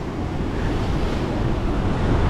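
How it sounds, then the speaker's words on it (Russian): Heavy storm surf roars continuously on the Black Sea shore at Divnomorskoye, a dense, loud wash of breaking waves with wind noise buffeting the microphone. "Да, волны серьезные."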